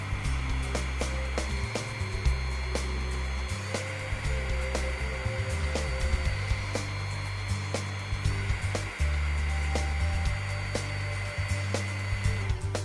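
A Huck Model 940 Powerig portable hydraulic power source runs steadily with a loud continuous motor hum, broken by small clicks and shifts in tone as the return pressure is adjusted.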